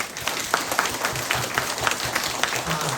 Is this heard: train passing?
no